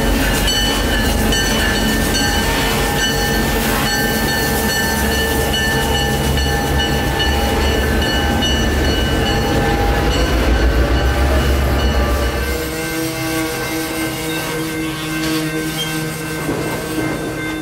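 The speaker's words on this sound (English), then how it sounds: "The power on tonight's train would be Solo GP9RM number 7063." A freight train rolls past behind a GP9RM diesel locomotive at night in Florida, a steady loud rumble of wheels and railcars with a low engine drone that eases off near the end.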